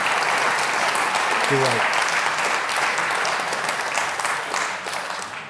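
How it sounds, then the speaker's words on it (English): Sustained audience applause at a community awards ceremony, a dense steady wash of many hands clapping throughout, with a brief spoken word from a nearby voice partway through. "So another round of applause there for Bob Harrison."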